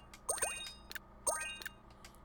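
Bright bell chimes from the video game Mario + Rabbids Sparks of Hope ring out in two quick sparkling bursts of rising, ringing tones, each fading with a soft shimmer, heard clearly and alone without talk.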